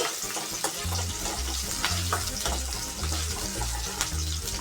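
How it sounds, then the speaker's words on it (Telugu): Onion frying in a pan for an okra masala curry, a constant watery hiss and sputter with regular low scraping strokes of a stirring spoon, close and steady, without speech. "ఆనియన్ అయితే బాగా ఫ్రై కావాలి కొంచెం గోల్డెన్ కలర్ కావాలి"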